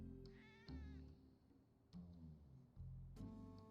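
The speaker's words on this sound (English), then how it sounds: "but what the heck is with the cats?" Cats in Final Fantasy 7 Remake meowing repeatedly, three or four close, clear meows in quick succession, some drawn out like a caterwaul, over low game background sound.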